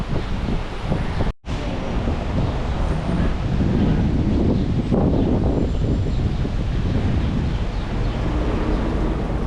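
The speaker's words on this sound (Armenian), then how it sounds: "Են էլ քամի է, հա։" Strong wind blowing outdoors on a windy, rainy city day, a loud rumbling buffet against the microphone with gusting surges and one brief dropout.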